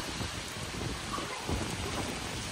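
Heavy, steady typhoon rain pours down with a dense roar, storm noise and wind gusts swelling throughout, with a stronger surge near the middle.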